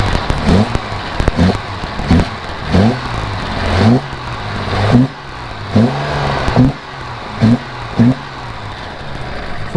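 Jaguar E-Type Series 2 engine fitted with three Weber carburettors, idling loud and close with a rhythmic pulsing lope and repeated blips of revving at regular intervals.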